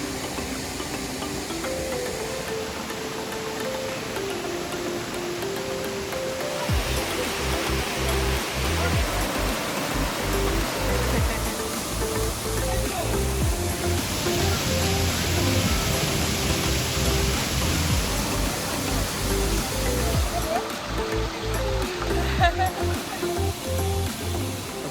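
A waterfall beside a wooden hiking trail in Brazil roars in a continuous, dense rush of falling water, loud and steady throughout, swelling slightly in the middle.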